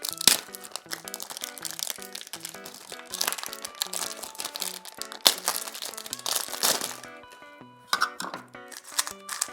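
Plastic wrapping crinkles and crunches while a MoYu WeiLong V10 speedcube, UV-coated, is unboxed, with close, busy bursts of rustling throughout and a few sharper crackles.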